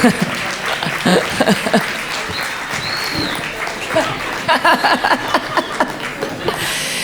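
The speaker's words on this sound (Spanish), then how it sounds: "Unos aplausos o algo, ¿no?" Studio audience at a live sexology-themed talk show claps in a dense burst, mixed with scattered laughter and chuckles, while voices talk over the crowd and the clapping thins toward the end.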